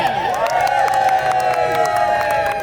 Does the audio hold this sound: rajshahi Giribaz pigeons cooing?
no